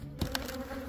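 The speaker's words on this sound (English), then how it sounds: "Oh, look it, there's a bumblebee." A bumblebee buzzes close by at a house where a beehive is being removed: a steady, droning hum with a couple of brief louder flicks.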